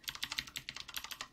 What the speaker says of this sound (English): I love the little typewriter sound.